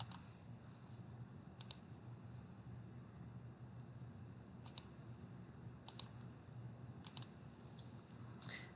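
A computer mouse gives sharp, isolated clicks, some single and some in quick pairs, spaced a second or more apart. They sound close over a faint, steady background hiss, with no speech.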